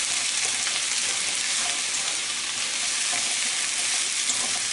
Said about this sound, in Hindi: इसको मिक्स करें।